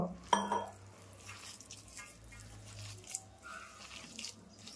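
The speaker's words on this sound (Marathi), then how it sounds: "आता मी थोडं पाणी ओतून घेते" Water poured into besan (gram flour) batter in a kitchen: a soft clink of a vessel, then gentle trickling and splashing with faint drips and utensil taps, quiet and close.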